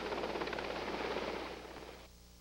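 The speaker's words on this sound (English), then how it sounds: "a presidential helicopter lands at Port Panama City today" A presidential helicopter landing at Panama City in 1999 produces a broad, rushing rotor roar that holds steady and then fades and cuts down near the end.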